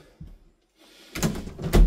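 A house's front door opening into a small entrance hall of a modern end-terrace home in Swaffham, Norfolk, heard as a soft thunk followed by a louder rattle and clunk of the door moving, close and alone.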